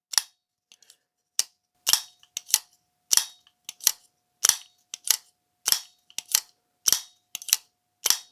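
A KIZER Beyond folding knife snaps open and shut over and over, each flick a crisp metallic click with a bright ting, about a dozen sharp hits spaced irregularly in a quiet room.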